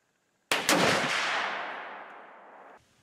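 A single loud, close shot from a Winchester X 150 muzzleloader, a sharp blast that rolls into a long decaying boom lasting over two seconds, with no talking.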